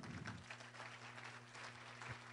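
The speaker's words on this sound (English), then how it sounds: "would you please give a nice big round of applause to Carly Fiorina" Audience applause for Carly Fiorina at a Practical Federalism Forum, a steady wash of clapping over a low hum, sustained throughout at moderate level with no voices.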